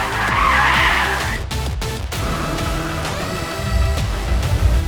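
A car drifts around a test track, sliding with a loud sustained tire squeal over the engine's roar, then quick shifts and more squealing as the car comes back under power. No one is talking.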